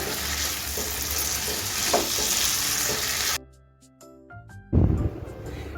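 Aloo posto, potatoes with poppy seed paste, sizzles in a pan under constant stirring for about three seconds, then drops to near silence before a sudden loud clatter and a renewed burst of frying.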